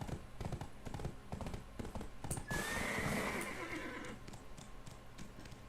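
A horse in the online game Black Desert gives a loud whinny midway, with clip-clopping hoof steps before and after it, set over steady game ambience and music.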